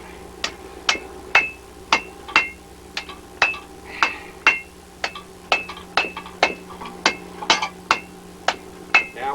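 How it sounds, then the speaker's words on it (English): A blacksmith's hammer pounds hot metal into a bend over the anvil edge, with about twenty sharp, ringing strikes in a steady, slightly uneven rhythm, close and clear. "Stick that over there and just pound it right on around."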